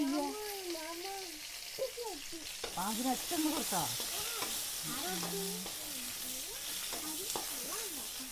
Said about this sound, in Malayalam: സാമ്പാറിന് വേണ്ടിയിട്ട് വെണ്ടയ്ക്ക് ഒന്ന് വറുത്തെടുക്കണ്ട കേട്ടോ കുറച്ച് ഓയിൽ ഒഴിച്ചു കൊടുത്തിട്ട് ഒന്ന് വറുത്തെടുക്കട്ടെ